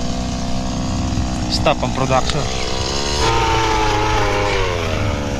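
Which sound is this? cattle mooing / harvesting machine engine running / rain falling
harvesting machine engine running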